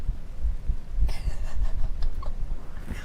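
A heartbeat picked up close, likely through a microphone held to the chest, thumping in a steady low rhythm through a faint background hum.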